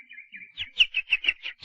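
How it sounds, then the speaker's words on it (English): Two birds twitter from a bush beside a road, a string of bright, clear chirps that quicken into a rapid run of repeated tweets, close and distinct with nothing else around them. "Two birds twittered on a bush by the road"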